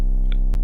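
A sub-bass sine wave in a simple beat hums deep and steady beneath a short tonal blip and a brief percussive hit, loud and sustained the whole time.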